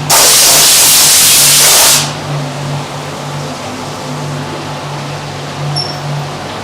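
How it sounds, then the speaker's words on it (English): A compressed-air gun blasts a brake caliper clean before lacquering, a loud close hiss lasting about two seconds before cutting off, leaving a low background hum. "Going to give it a quick blow off before we apply the acrylic lacquer, just to make sure there's no bits"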